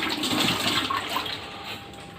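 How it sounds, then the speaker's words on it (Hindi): Water poured into a pot of chana dal being prepared for shami kabab, a steady close splashing gush that tapers off toward the end. "पानी मैं इतना डालूँगी कि मेरी चने की दाल जो है अच्छी तरीके से गल जाए"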